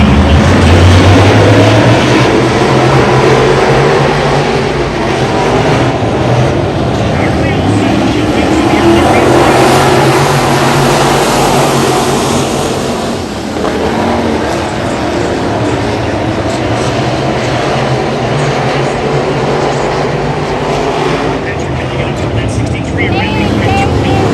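USRA late model race cars in a heat race at the USA Nationals roar in a loud, dense pack, engine pitch rising and falling as they pass, while people talk over the din.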